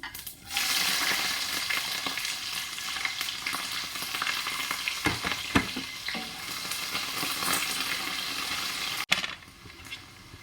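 Onions drop into hot oil with whole cumin seeds and sizzle at once, settling into a steady, close frying hiss. Scattered stirring scrapes and small clatters sound over it, and one sharp knock comes near the end.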